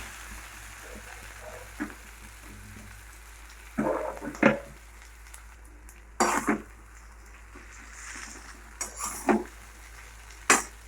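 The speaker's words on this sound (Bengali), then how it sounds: "বাকি চাউমিনটা আমরা দিয়ে দেবো, দিয়ে ভালো করে মিশিয়ে নেবো" Chow mein mixed in a pan, a few scattered scraping and clinking bursts of utensil against metal over quiet background hum, with pauses between strokes and no talking.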